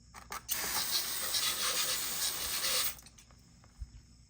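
A brush scrubs old grease off the wheel gear of a Honda lawnmower, making a close, steady, raspy rubbing burst of about two and a half seconds, framed by quiet moments and a light knock.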